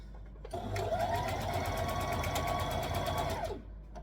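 A sewing machine stitching a curved seam on a stretchy knit tee shirt, running steadily at a slow, even pace for about three seconds before stopping, close and clear with no talk.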